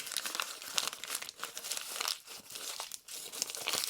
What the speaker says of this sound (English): I crumple this up a little bit.